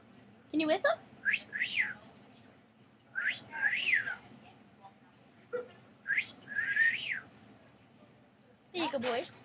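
A pet bird whistles in three separate bursts of bright rising and falling notes, close and clear, with short human vocal sounds at the start and end.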